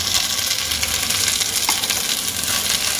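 Ground lentil paste sizzles and fries in hot oil for a Bengali dalpuri, a loud, continuous close crackle with occasional stirring and no talk.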